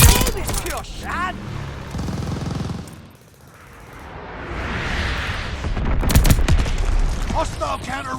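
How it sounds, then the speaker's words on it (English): Bombing run explosions in Call of Duty: Vanguard during Team Deathmatch: deep rumbling blasts and rattling gunfire swell and fade, mixed with game voice callouts. "Friendly bombing run inbound."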